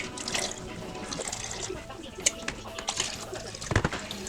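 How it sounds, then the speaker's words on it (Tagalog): Peppermint syrup draining through a cloth, a steady close trickle and splash of liquid running continuously with small drips and bursts, no voices. "so that you can drain it properly and remove all the excess particles that you don't need it in the syrup"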